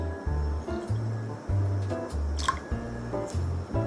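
Roughly 100 ml of milk is poured into cornstarch for a milk pie batter, giving soft, gurgling drips and liquid splashes in short bursts over a low steady hum.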